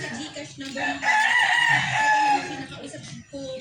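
A pure 7/8 bull stag gamefowl rooster crows once, close and loud, its drawn-out call rising and falling with faint clucking and farmyard noise around it.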